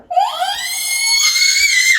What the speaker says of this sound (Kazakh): Мә, айқай екен.